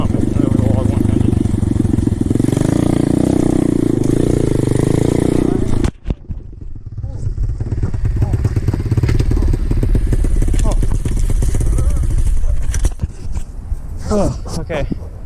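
An Apollo 125cc dirt bike engine roars loudly and steadily close by, drops out briefly, then revs and putters as the bike is pushed over a log. A voice speaks over it.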